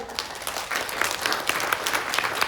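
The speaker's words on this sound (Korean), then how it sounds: "큰 박수로 환영해 주십시오." Audience applause welcoming a speaker at a forum session of a provincial council, brisk sustained clapping from many hands, fairly loud and close, with no talk over it.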